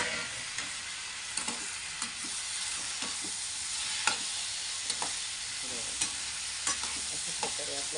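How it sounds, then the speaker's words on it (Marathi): Tomatoes are stirred into fried onions with turmeric in a pan, giving a soft, steady sizzle broken by repeated scraping and stirring clicks, close and fairly quiet. "अशा प्रकारे आपल्याला हलवून घ्यायचं चांगलं मिसळून."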